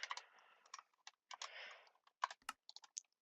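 Close, quiet typing of a username on a computer keyboard, quick bursts of key clicks with short pauses between them, and no voices.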